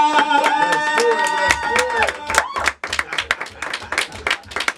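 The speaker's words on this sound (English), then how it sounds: "we're going to do that applause one more time" Applause at a live event with music, a crowd cheering and clapping as a tune plays at the start, then loud, irregular bursts of clapping and voices take over.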